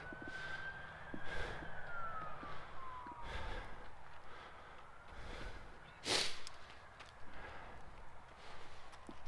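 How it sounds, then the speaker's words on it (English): Ambulance siren on Highway 101 South, faint and distant, with a wavering tone that slowly falls away over steady road noise and a brief nearby thump. "We've got an ambulance flying down 101 South."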